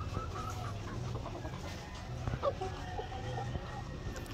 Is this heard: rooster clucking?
yes